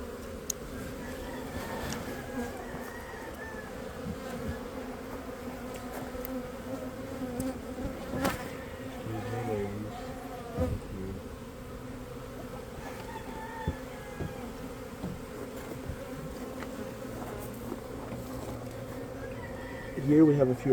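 Bees buzzing densely during a hive rescue on a farm as the colony is opened and scooped out, a continuous close drone with shifting pitches and brief louder bursts.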